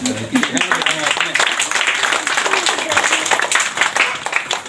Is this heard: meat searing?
no